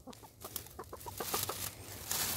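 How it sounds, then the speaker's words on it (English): Chickens cluck in quick, repeated bursts while scratching about in a pile of leaves, with steady rustling close by and no talking. "Come on out of there, you silly chicken."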